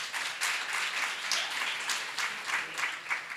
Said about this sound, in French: Je pense que ça mérite encore plus d'applaudissements, s'il vous plaît.